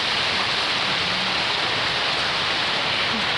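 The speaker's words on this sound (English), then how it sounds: "The fucking hail can go away." A spring hail storm on the Rockies Front Range, a dense, loud, continuous hiss of hailstones pelting surfaces without pause and no voices.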